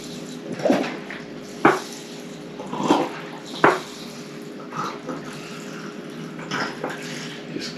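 Cheap vodka pours from a bottle fitted with a pouring spout into a jar of horehound for an herbal tincture, coming in close, short splashing gurgles separated by brief pauses.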